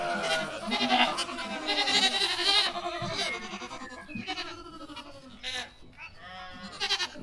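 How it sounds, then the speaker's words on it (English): Goats of many ages, kids to adults, bleat over and across each other in a dense, overlapping chorus of high and low cries, fairly loud and close, with bursts varying in pitch and length. "These are goats of all ages."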